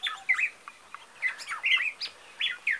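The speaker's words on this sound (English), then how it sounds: "The birds, where are the birds?" Birds chirp outdoors among flowering plants, a string of bright short tweets and trills, some nearer and louder, others faint, with no talk.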